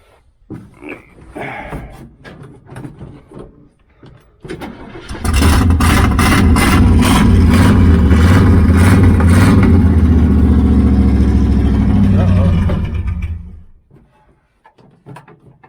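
A carburetted project car's engine cranks and catches, then revs hard and steadily for several seconds as the throttle pedal is pumped, loud and close, before cutting back; brief clattering and handling noises come before it.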